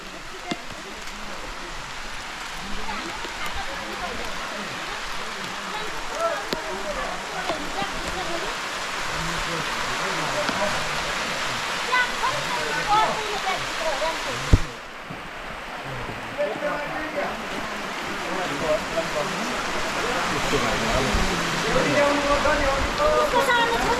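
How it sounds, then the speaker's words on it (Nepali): Steady rain pours at a roadside restaurant with a tent awning on the road from Itahari toward Thulo Phedi, a broad continuous wash with a sharp knock midway and faint voices beneath. "राम्रै पानी पर्यो"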